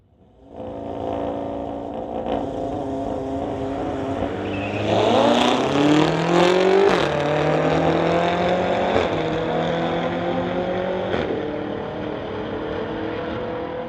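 A BMW and an Audi, both street cars, launch side by side on a drag strip with loud, close engine roars that climb in pitch through several rapid gearshifts, then hold at a high, sustained howl.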